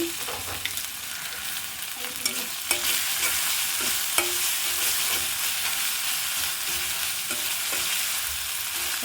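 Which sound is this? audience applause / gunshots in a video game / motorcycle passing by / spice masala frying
spice masala frying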